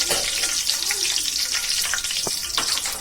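Mutton cutlet ingredients frying in a pan give a steady, close hiss and crackle that fills the whole clip, with a few brief clinks and stirring scrapes over it.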